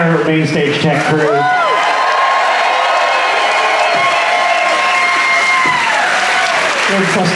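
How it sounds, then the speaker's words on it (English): Loud, steady clapping and cheering from a concert crowd at the JoCo Cruise 2025 main stage, saluting the tech crew, with shouts and whoops rising over the applause and voices heard throughout. "while you're clapping, please give it up for our entire main stage tech crew"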